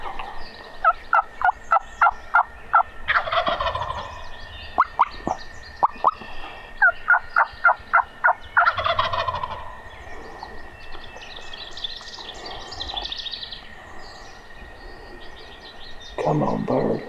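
Wild turkeys gobbling on public land in late morning, several rapid rattling gobble bursts in quick succession, then fainter calls farther off, outdoors with no talking.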